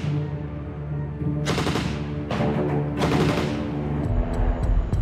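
An MG5 belt-fed machine gun fires in loud, rapid bursts, with three or four dense volleys separated by short pauses and a low rumbling background.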